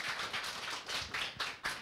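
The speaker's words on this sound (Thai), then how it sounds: "ขอเสียงปรบมือด้วยค่ะ" A tech talk audience applauds a speaker being introduced on stage, a faint, brief patter of scattered claps with a few louder individual hits and no voices.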